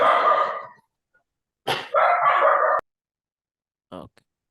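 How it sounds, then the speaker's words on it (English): A dog barking and yipping in short bursts with pauses between, close and fairly loud, heard as background noise over an online meeting, with a brief whimper-like sound near the end. "Your dog noise is coming."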